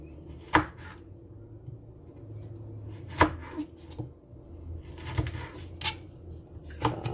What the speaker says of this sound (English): Now it's time for me to cut up the carrots.